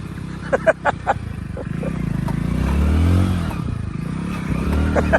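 Motorcycle engine rumbling on a rough road, close and steady with a swell of revving midway, a few sharp knocks and clicks early on and faint voices in the background.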